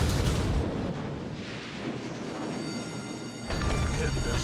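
An enemy cruiser hit and destroyed in a naval battle video game, heard as a loud, dense rumbling blast and roar that lasts throughout, with a voice talking over it.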